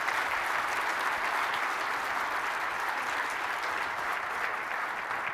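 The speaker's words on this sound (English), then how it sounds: "So let's give them a round of applause" Sustained, dense applause from a conference audience at a closing session, a steady even wash of clapping held at constant loudness throughout with no speech over it.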